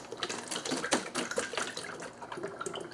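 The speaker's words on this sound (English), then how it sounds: "going to pour out about half of this into this container" Water pours steadily into a plastic gallon jug while mixing coolant, with bubbly splashing and gurgles, close up, for a few seconds without talking.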